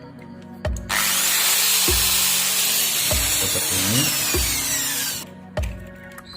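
A power drill whirs loudly for several seconds, with thumps before and after and a few grinding shifts in pitch as it bites in.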